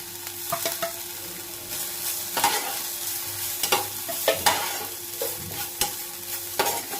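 Grated ginger and softening onions sautéing in a pan while being stirred, with a low steady sizzle broken by repeated sharp scrapes and clinks of the spoon against the pan, close up and with no talk.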